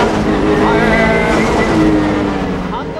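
A heavily modified, weight-stripped car is driven hard up a touge mountain road, its engine a loud, continuous rasping drone with shifting pitch as it revs through bends, close and steady throughout.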